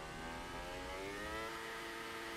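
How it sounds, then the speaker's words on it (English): A Formula 1 car engine in the F1 2018 racing game on PS4, during qualifying at the German round, drones at high revs, steady and loud with no breaks, filling the whole stretch. "That sounds absolutely awful, the revving."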